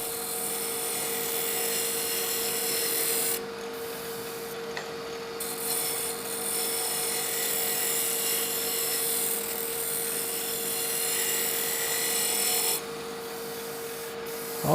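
A wood lathe spins a whiskey tumbler blank at high speed while a gouge cuts along it, giving a steady loud rushing scrape over a constant motor hum, with brief lighter gaps as the tool lifts and no talking.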